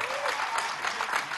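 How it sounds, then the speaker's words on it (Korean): Brief burst of audience applause at a professional billiards championship winner interview, a dense steady patter of many hands clapping at moderate distance. "네, 박수 보내주시고요."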